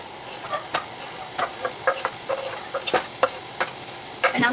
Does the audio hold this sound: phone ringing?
no